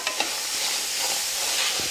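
Ingredients dry-roasting in a pan with no oil, including dried red chilli and roasted gram, give a soft steady crackle and scrape of stirring, close and fairly quiet.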